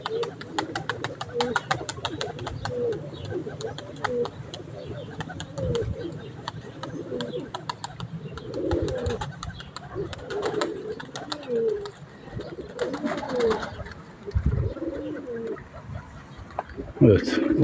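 Domestic pigeons in a loft cooing steadily with bursts of wing flapping, fairly close, while a person talks intermittently over them.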